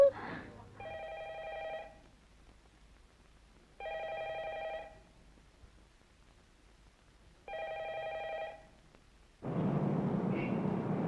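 A telephone rings in three separate bursts with quiet pauses between them, followed by a sudden noisy rush at the end.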